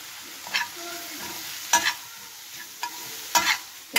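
A vegetable cutlet mixture of peas and carrots fries in a pan and gets stirred. Soft sizzling runs throughout, broken by several distinct scraping strokes of the spoon at irregular intervals, close by and with no talking.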